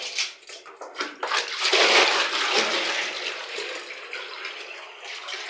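Well water is poured into a plastic tub in a gushing splash that swells, peaks and then settles into a steadier trickling flow, close by with no talk.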